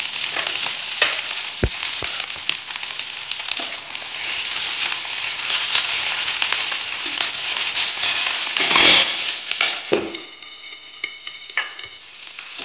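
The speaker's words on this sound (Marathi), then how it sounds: "आता आपण तेल टाकले मिरची टाकून" Green chillies frying in hot oil in a pan for thecha, a loud continuous crackling sizzle punctuated by sharp pops and stirring scrapes, easing off near the end.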